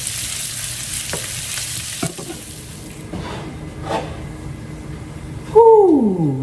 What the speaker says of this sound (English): Now we're going to let this simmer for just about 2 or 3 minutes.